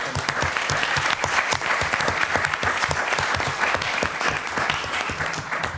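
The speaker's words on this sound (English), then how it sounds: "we should also have a round of applause for those developers in the room" A conference audience at a discussion on internet free expression applauds the developers of circumvention tools in the room: dense, steady clapping from a large crowd that carries on loudly throughout.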